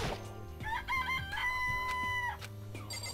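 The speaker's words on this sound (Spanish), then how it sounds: "Una gallina, ¿verdad? No son más que gallinas corrientes" Rooster crowing and chicken sounds from the video game Danganronpa Trigger Happy Havoc, a loud drawn-out crow with rising harmonic calls over steady game music, no talk.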